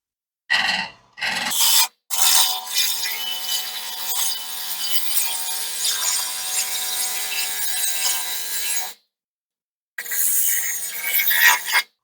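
Hand saw or cutting tool ripping through wood with tear-out: two short rasps, then a long steady scraping cut, a pause and a final burst, close and loud with no talking.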